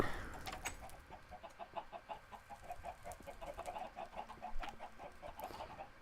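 Minecraft chickens cluck repeatedly in a quick, steady pattern with faint background noise; the clucking is soft and continuous, with no one speaking.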